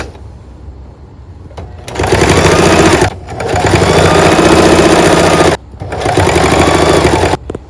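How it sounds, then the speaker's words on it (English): Sewing machine stitching the outline of a scrap-fabric cadet hat brim: loud, rapid mechanical buzzing in three bursts separated by brief pauses, close up and with no talking. "I'm gonna sew it just the outline of the brim"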